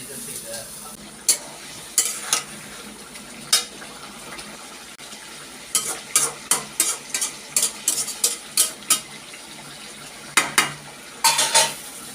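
Pointed gourd with mustard frying in a wok, a steady low sizzle broken by sharp, clustered scrapes and clinks of a spatula stirring against the pan, with no talk.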